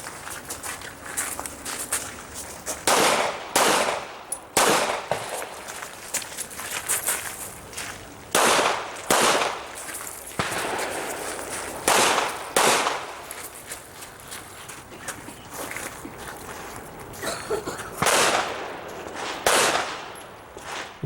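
Pistol shots from competitors on a stage at an IDPA match at an outdoor wildlife club range, sharp cracks fired in quick pairs and spaced strings, some nearer and louder, with faint background noise between.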